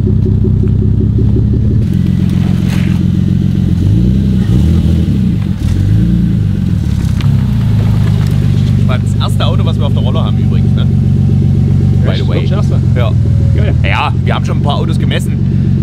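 Car engine revving on a dynamometer roller, a loud continuous droning rumble with rising and falling revs throughout, while people talk over it.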